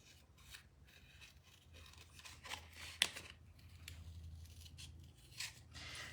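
Scissors snipping and sliding through material in a run of quiet, close cuts, with scratchy rasping strokes and one sharp click partway through, and no talking over them.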